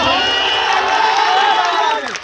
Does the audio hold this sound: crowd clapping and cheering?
yes